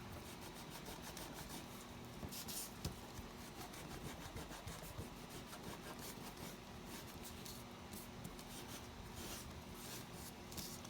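Polish-soaked cloth scrubbed over a picture with Nevr Dull, a steady close rasping rub that continues without pause for the whole stretch, with no voices.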